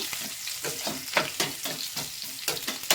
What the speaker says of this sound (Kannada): ಈ ರೀತಿ ಸ್ಲೈಸ್ ಸ್ಮಾಲಾಗಿ ಕಟ್ ಮಾಡಿಕೊಂಡು ಅದನ್ನು ಕೂಡ ಸೇರಿಸ್ಕೊಳ್ಳೋಣ. ಈಗ ಸ್ವಲ್ಪ ಫ್ರೈ ಮಾಡ್ಕೊಳ್ಳೋಣ.